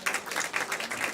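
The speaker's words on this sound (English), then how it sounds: "Clap for him, everyone" Scattered applause from an audience at a live comedy show, a brief burst of steady clapping at moderate distance with no talk over it.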